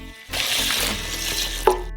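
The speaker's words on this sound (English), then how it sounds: "Pour in 2 liters of water." Water pours steadily into a saucepan with a continuous rushing splash, close by, ending with a small clink before cutting off.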